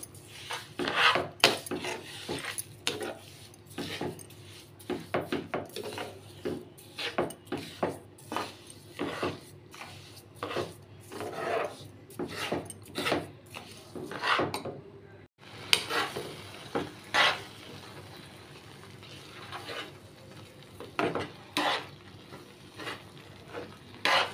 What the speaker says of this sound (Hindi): इसको अच्छी तरह से हमें पकाना है, जो चीनी और एप्पल का जो घोल है वो अच्छी तरह से मिक्स हो जाए।